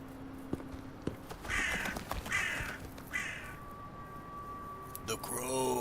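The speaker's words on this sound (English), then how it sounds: "The crows." A few cawing crows in the video game Wuthering Waves, spaced harsh calls over quiet ambience with a tonal game cue near the end and other effects around them.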